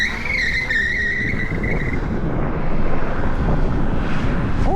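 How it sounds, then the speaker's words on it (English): Teverun 7260R electric scooter, fitted with an upgraded V4 kit, spinning its front tire under throttle: a loud, steady rushing whir with a brief high electric whine at the start, then a broad roar that swells slightly. "I have to be careful with the throttle because it just spins the front tire."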